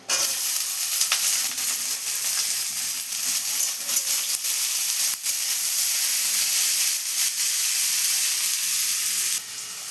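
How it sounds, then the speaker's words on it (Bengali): Bitter gourd and potatoes are dropped into a very hot wok of mustard oil with a torn dried chilli, setting off a loud, close, continuous sizzle and hiss that holds steady before dropping off abruptly at the end. "উচ্ছে আলুটা দিয়ে দেবো কড়াইতে।"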